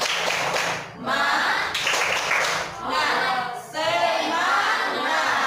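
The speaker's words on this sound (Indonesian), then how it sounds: "Tepuk tangan dulu" Schoolchildren clapping together in a classroom at the teacher's call, in loud rhythmic bursts separated by brief pauses, with young voices shouting over the clapping.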